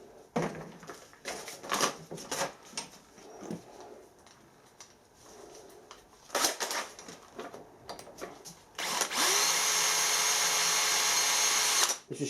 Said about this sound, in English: This is strange stuff to drill.